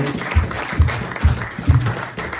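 A church congregation at a French-language service applauds, with several rhythmic bursts of hand clapping, loud and close, rising and falling in a steady beat over a couple of seconds.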